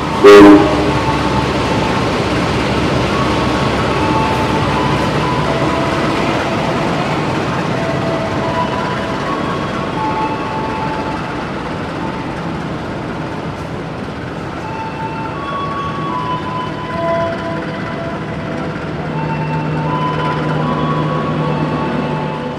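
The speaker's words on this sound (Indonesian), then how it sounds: "yang masuk di jalur 3 saat ini adalah kereta Jakartingkir" The Jakartingkir passenger train, made up of modified new-generation economy carriages, rolls into track 3 at a station. A short horn blast opens a long, steady rumble of wheels and carriages that continues throughout.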